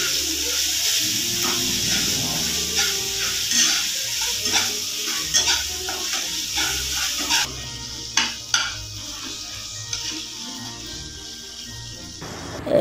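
Tomato masala frying in oil in a pan, with bright sizzling and repeated scraping strokes of a spoon stirring it, a few louder clanks near the end, close and without talk.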